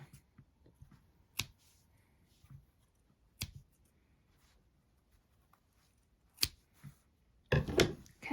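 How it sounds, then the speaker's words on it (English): Scissors snip the yarn tails of a crochet amigurumi in a quiet room, giving a few isolated sharp clicks spaced a second or two apart, ending in a brief louder rustle. "then you can just cut all of your tails that you have."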